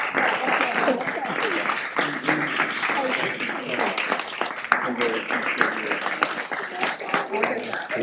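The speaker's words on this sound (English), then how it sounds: "Let's give Jeannie a big round of" Audience applause at a city council meeting, a steady patter of claps over about eight seconds with voices talking and murmuring through it.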